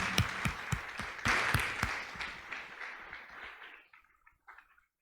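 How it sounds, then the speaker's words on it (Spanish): A church congregation applauds during a Christian sermon, a burst of scattered hand claps that thins out and fades away after a few seconds, with no one speaking. "Se vale aplaudir al Señor."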